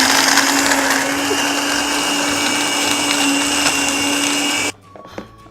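A Vitamix blender whirs loudly and steadily as it grinds almonds with water into almond milk, then cuts off abruptly near the end, leaving quiet.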